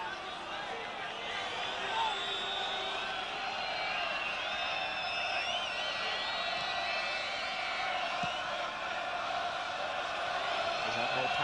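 A stadium crowd at a 1994 World Cup qualifier football match between Poland and the Netherlands gives a sustained, distant roar of cheering and whistles, with a commentator speaking over it.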